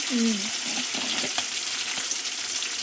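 Turmeric and spices sauté in a pan for a Tamil ridge gourd stir-fry, giving a soft, steady sizzle with a few light stirring scrapes, close and fairly quiet.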